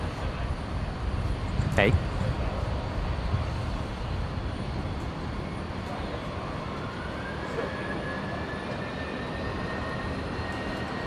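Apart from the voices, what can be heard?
Qantas airliner taking off from runway 19 left, Brisbane Airport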